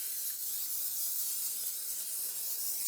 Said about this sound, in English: I'm going to spray it with some non-stick, there it is, cooking spray right here